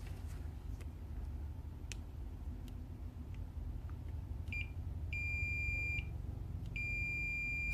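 Repeated electronic beeps from a multimeter's continuity test while repairing an Apexi RSM meter, two sustained tones near the end over a steady low hum.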